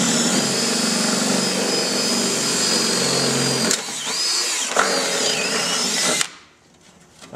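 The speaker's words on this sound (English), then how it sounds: "we're just gonna drill it a little bigger" A power drill whines loudly and continuously, enlarging a hole in a motorcycle's fiberglass panel, its pitch wavering briefly near the end before it cuts off abruptly into quiet.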